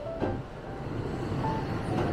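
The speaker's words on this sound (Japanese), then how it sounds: "乗車してきた大和朝倉駅の普通電車を見送ります" A Kintetsu local train departs Yamato-Asakura Station, Nara, rumbling steadily at a distance with a low rolling drone and faint wheel noise, no voices.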